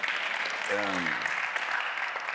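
A crowd claps in a steady, dense wash of applause that carries through the whole moment, with a brief voice rising underneath near the start.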